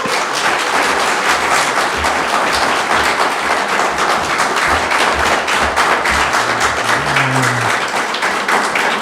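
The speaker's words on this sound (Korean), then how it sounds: "나오셨을 때 축복의 박수로 환영하도록 하겠습니다" A church congregation at an anniversary worship service applauds in welcome, a dense, sustained round of clapping from many hands that stays loud throughout.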